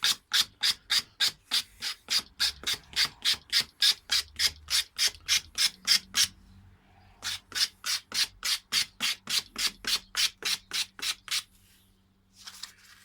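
Steady rhythmic rasping strokes of a cue tip being shaped by hand on sandpaper, about two per second, pausing briefly midway before resuming, close and fairly quiet.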